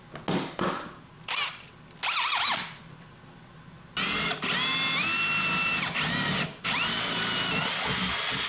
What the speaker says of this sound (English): drilling in each of the corners of these notches